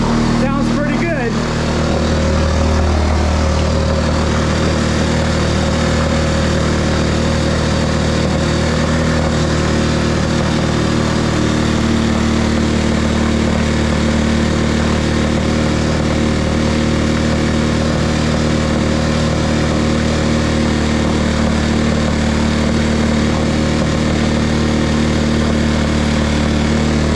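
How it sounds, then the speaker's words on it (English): Outboard boat motor on a skiff running steadily nearby, a loud, even mid-pitched engine drone with a constant hum that holds without break. "Since we got the motor running"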